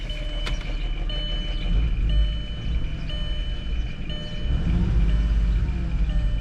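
A 2002 Volkswagen Eurovan VR6 engine idles with a steady hum, then swells louder and deeper as it is revved, the idle rattle fading under the rising engine note.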